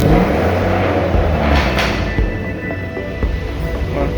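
A cold car engine fitted with an AMR turbo, freshly installed and dyno tuned, idles on warm-up with a deep, rough, steady rumble, loud and close.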